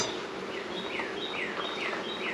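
Honeybees buzz at their hive in a steady, close, dense hum, with a few faint, higher chirping notes drifting over it.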